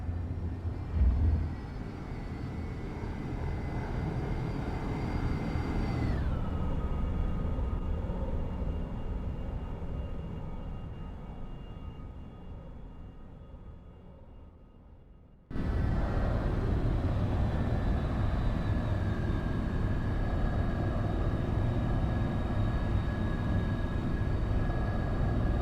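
Boeing 707-120B airliner flying in the X-Plane 12 flight simulator, a continuous jet engine roar with a whine that drops in pitch, fades quieter, then jumps back abruptly to full loudness and holds steady.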